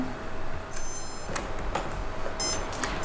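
Several short, high-pitched electronic beeps, spaced irregularly against a quiet background hum.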